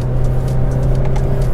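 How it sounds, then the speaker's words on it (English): A 2013 Scion FR-S four-cylinder boxer engine growls from inside the cabin in a steady, loud, low drone with a constant hum and slight rasp, and no one speaks. "The exhaust note is awesome."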